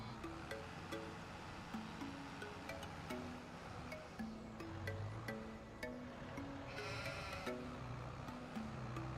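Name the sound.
sheep bleating in video game Farming Simulator 25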